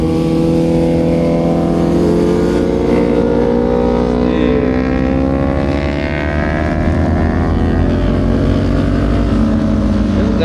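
Kawasaki big bike motorcycles roar past at a race, a loud continuous engine drone with rising and falling pitch as several machines pass close by, with no talking.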